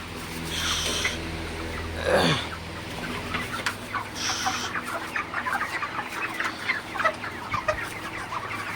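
Broiler chickens cluck steadily inside a poultry farm shed, many birds calling in a busy overlapping chorus over a constant low ventilation hum, with a louder squawk standing out near the start.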